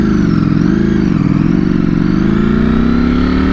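A 2020 Ducati Streetfighter V4 with a flashed ECU tune pulls hard in first gear, its engine a loud, steady, close roar that climbs gradually in pitch over a few seconds, with no break and no voices.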